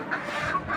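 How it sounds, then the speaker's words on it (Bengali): Desi free-range hens in a backyard coop make continuous, busy clucking and squawking at close range, a dense flock noise with no pauses and no talk. "মুরগিগুলো চিল্লাচিল্লি করতেছে"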